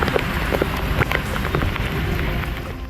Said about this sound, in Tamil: உதகை படகு இல்லம் செல்லும் சாலையில் கனமழையின் காரணமாக செந்நிறத்தில் மழைநீர் பெருக்கெடுத்து ஓடியது